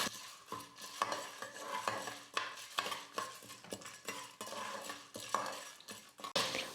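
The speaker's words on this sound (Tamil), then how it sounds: "இப்போ இந்த வேர்க்கடலையும் சேர்த்து வறுத்துக்கலாம்." Peanuts dry-roast in a pan with urad dal and chana dal, stirred in a steady rhythm of rattling, scraping strokes that sound close and fairly quiet, with no talking.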